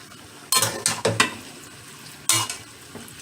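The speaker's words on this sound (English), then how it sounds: "See, that's the chicken cooking." Chicken for fajitas stirred in a hot pan, with several loud scraping stirs and bursts of sizzle separated by quieter frying in between.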